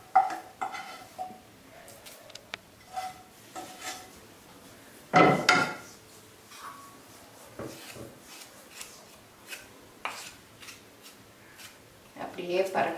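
Thick coconut burfi mixture poured from a pan into a tray, with scraping and clinking of a spoon against metal and a dense rush of sound midway, while a person talks throughout.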